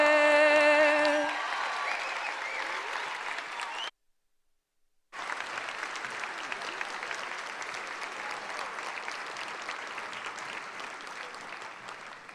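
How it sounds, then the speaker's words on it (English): Audience clapping at a teacher-of-the-year awards ceremony, steady and moderately loud, breaking off briefly before resuming just as strongly. "how about another round of applause for Lauren Matthews"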